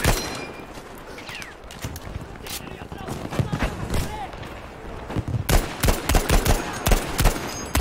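Gunfire on the Iwo Jima battlefield in Battlefield V multiplayer, scattered sharp shots and short bursts near and far, with heavier volleys toward the end over a busy combat background.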